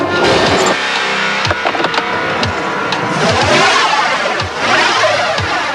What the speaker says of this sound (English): With no traction on any of the wheels, the car is thrown into a spin, and at high speed, that spin could be deadly